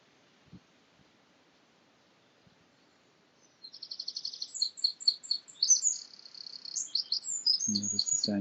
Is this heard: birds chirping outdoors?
yes